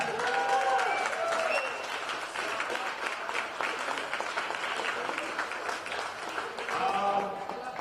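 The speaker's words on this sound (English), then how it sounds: "A big applause for those guys" Crowd applause for the volunteers at a youth bouldering national championship, sustained clapping across the venue heard at moderate distance, with a voice speaking over it at the start and end.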